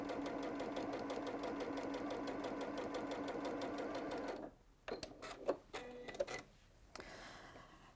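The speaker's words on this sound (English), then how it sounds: "all I'm doing here is sewing the last of these sets of 3 together" A sewing machine stitches fabric pieces together in a steady, fast mechanical run for about four seconds, then stops and gives a few short bursts and clicks as the work is adjusted, loud and close.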